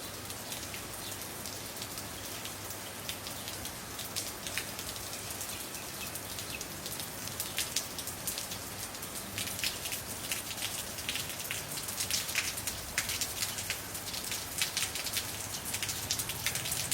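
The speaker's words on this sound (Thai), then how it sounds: "ฝนหาใหญ่หาหลวงมาละเนอ" Heavy rain falls steadily and densely outdoors in Wiang Pa Pao at the start of the rainy season, a constant close hiss of drops on surfaces with scattered sharper patters and no voices.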